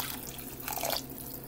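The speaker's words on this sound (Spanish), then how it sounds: "Y vamos a agregar un poquitín de agua." A little water poured into a pot of potato soup, a short splashing trickle that swells for about half a second among faint kitchen background noise.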